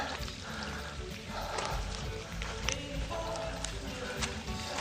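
Mountain stream water flows and pours steadily straight out of rock near a summit running route, a continuous close rushing wash with no talk.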